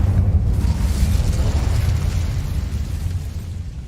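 In Hogwarts Legacy, an Incendio fire spell erupts as a loud, sustained, roaring burst with heavy low rumble, slowly fading over a few seconds with no speech over it.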